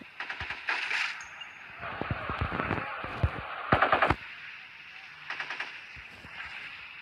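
Bursts of rapid automatic gunfire from the mobile shooter game Modern Sniper, several short volleys and single shots spaced across the span, with occasional voices talking.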